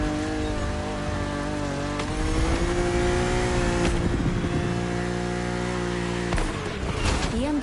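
A BMW Z roadster drives in The Crew Motorfest, its engine droning loud and steady throughout with small shifts in pitch. No one speaks.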